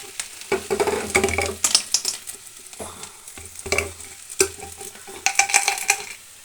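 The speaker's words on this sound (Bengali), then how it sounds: "এবার এটার মধ্যে আমি দুটো বড়ি ভাজা ছিল, সেই বড়ি দুটো আমি এর মধ্যে দিয়ে দেবো" Fried potatoes and two fried lentil dumplings sizzle loudly in a pan while being stirred, a crackling close-up frying with bursts of spattering and scraping and no speech.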